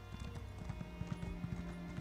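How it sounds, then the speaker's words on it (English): A horse gallops in a video game, its hooves clip-clopping in a fast, even rhythm at close range beneath a low droning tone. "Go horse. Faster horse, faster."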